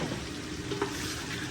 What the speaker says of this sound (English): So now we're going to pour the liver in there.